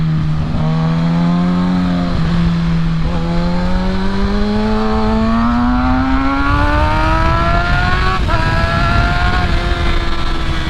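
A 2020 Kawasaki Ninja ZX-6R 600cc sport bike engine wails steadily throughout the ride, its pitch climbing smoothly through the gears with brief dips at shifts, loud and close under constant wind rush.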